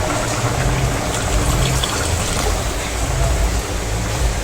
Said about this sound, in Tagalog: lagyan natin ng isang baso na tubig